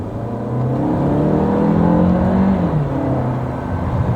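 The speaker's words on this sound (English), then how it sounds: "The car sounds nice inside. I like this 1600 engine." A Jaecoo J7 SUV with a 1600 engine accelerates in normal mode, heard from inside the cabin: a smooth, rising engine whir that swells, dips briefly with a quick gear change, then climbs again.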